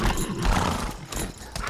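Horse in the video game Lost Ark, a short burst of loud, close hoof clatter and snorting whinny in game audio.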